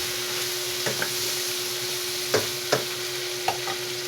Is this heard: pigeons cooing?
no